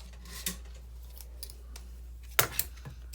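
Scissors snip through packing paper laid out flat for a collage: a faint cut near the start, then a sharper, louder pair of snips toward the end, close by with no talking.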